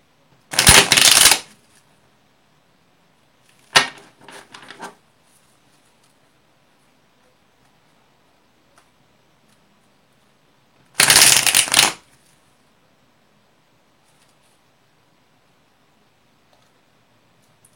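Tarot cards are shuffled in two loud, close bursts about ten seconds apart, each a dense riffling flutter lasting around a second, with a softer brief shuffle and light handling between and quiet pauses otherwise.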